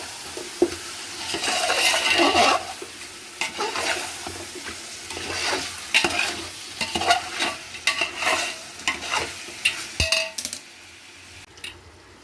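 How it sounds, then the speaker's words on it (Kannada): Tomato, green chillies, coriander and mint masala for chicken dum biryani is stirred and fried in a pot, with rhythmic ladle scrapes and clinks over a constant close sizzle and no voices. "ಟೊಮಾಟೊ, ಹಸಿಮೆಣಸಿನ್ಕಾಯಿ, ಕೊತ್ತಂಬರಿ ಸೊಪ್ಪು, ಪುದೀನ ಹಾಕ್ಬಿಟ್ಟು ಎಲ್ಲ ನೀಟಾಗಿ ಫ್ರೈ ಮಾಡ್ತಾಯಿದ್ದೀನಿ"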